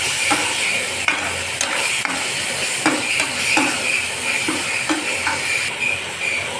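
Steady sizzling and hissing in a pan as a ground tomato mixture is stirred, repeated scraping strokes of a spoon, close and moderately loud, no talking.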